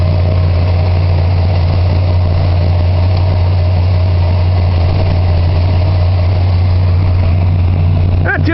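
A 1978 Chrysler New Yorker Brougham idles after a cold start in snow and ice, its engine holding a steady, deep, continuous rumble up close with a faint higher whine layered over it.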